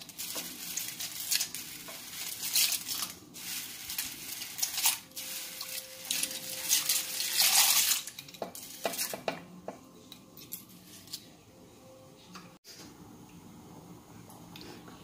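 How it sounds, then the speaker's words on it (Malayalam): Ada rice flakes are tipped into boiling water in a pot and stirred for ada prathaman, a bubbling hiss with scraping, clattering stirring strokes that fades quieter toward the end. "ഇപ്പം ഞാൻ അടയെല്ലാം അതിനകത്ത് ഇട്ട് കൊടുത്തു. നമുക്കിത് ഇങ്ങനെ ഇളക്കി കൊടുക്കണം ഇതൊന്ന്"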